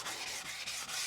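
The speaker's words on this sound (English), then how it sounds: "while I'm sanding" Close, steady abrasive rubbing of sanding a car headlight in short back-and-forth strokes, with no voices.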